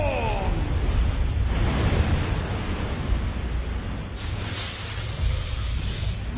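A giant water wave attack surges in an anime fight scene inside a church, a loud, continuous rushing roar of spray and churning water with a brighter hiss swelling near the end.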